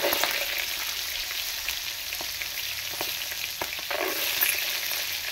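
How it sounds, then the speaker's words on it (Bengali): Soaked green peas frying in hot oil for homemade chanachur, a loud, continuous crackling sizzle with occasional stirring scrapes, close and without talk. "দুটি সবুজ মটর ভিজিয়ে রেখেছিলাম কাল থেকে, এটা ভেজে নেব।"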